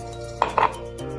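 Ground coriander powder and powdered garam masala are mixed in a bowl with two quick, sharp scrapes or clinks of a spoon against the bowl, close and fairly loud, with no talking.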